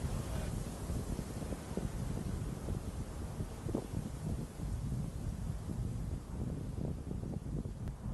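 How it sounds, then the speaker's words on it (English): Steady wind buffets the microphone at the peak of a hilltop mound with a constant rough rumble and gusty roar, loud and unbroken throughout. "Up here at the peak of the mound, it's a little bit windy."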